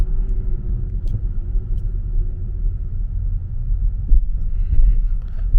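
Tesla Model Y rolling along a road, a low steady rumble of tyres and wind from inside the cabin, fairly loud with occasional thumps and no talking.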